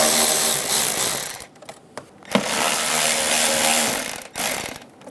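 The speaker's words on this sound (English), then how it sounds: "Using an 8mm socket, we're going to loosen up our hose clamp" An 8mm socket on a tool loosens a hose clamp under the hood of a 2007-2017 Ford Expedition, giving loud whirring bursts broken by a few short pauses.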